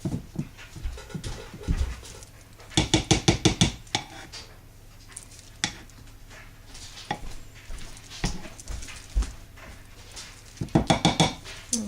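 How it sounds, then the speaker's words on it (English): Homemade rosehip-oil lotion stirred vigorously in a container, heard as close, rhythmic scraping and clattering in quick bursts, with quieter gaps between them. "now I'm going to stir this really good"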